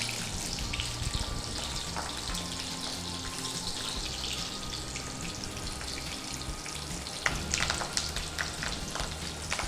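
Chopped onion and garlic sizzle steadily in hot oil in a home kitchen pan, a continuous crackling fry with a few brief clinks and no one speaking.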